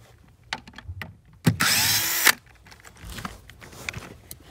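A ratchet and 10 mm socket remove plastic nuts on a 2016 Volkswagen Passat, with a short burst of tool whirring between scattered clicks and handling knocks, all close and moderately quiet.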